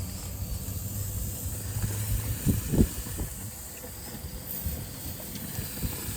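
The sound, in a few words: food sizzling on gas cooker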